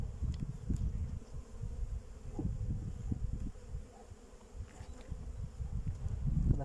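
Honey bees buzz steadily inside an opened beekeeping hive colony, a dense low hum with fluctuating intensity throughout, close and continuous with no talking.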